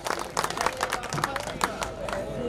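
Audience applause at a community gathering of the Gautam Rishi Meena society, a dense run of clapping with scattered louder claps, close and steady, mixed with a murmuring crowd.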